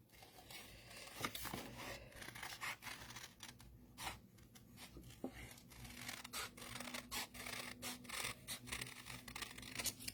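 Scissors snip around the edges of small quilt fabric pieces, making quiet, irregular cuts and rustles close by with short pauses between strokes.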